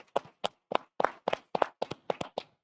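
Audience applause at a conference heard as about ten sharp, evenly spaced claps, close and fairly loud with brief silences between them, more like a single person clapping steadily than a full crowd.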